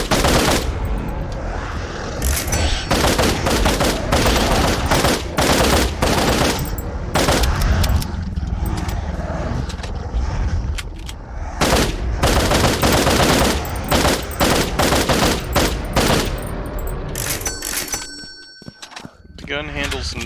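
Rapid automatic gunfire in the shooter Pop Some Eyes, fighting waves of Beholder-like enemies. Dense, loud volleys run almost without pause under someone talking throughout.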